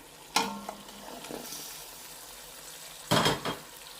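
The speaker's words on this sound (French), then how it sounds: "Je vais venir mettre mes carottes" Carrots drop into caramelised meat in a cocotte, two bursts of loud close sizzling with pot clatter, each flaring then settling into a quieter steady fry.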